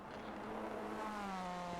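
An Audi TCR race car engine in the racing game Rennsport, heard from an external camera, drones steadily at moderate distance with rising harmonic tones as revs climb, fairly faint overall.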